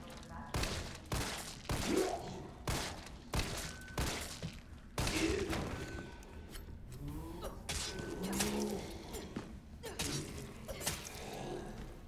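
Gunshots fired at an enemy's legs in the video game Resident Evil 3 ring out as a string of sharp, loud blasts at irregular intervals, with someone talking between and over them.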